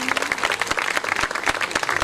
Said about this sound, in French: Est-ce qu'on peut applaudir pour Cindy?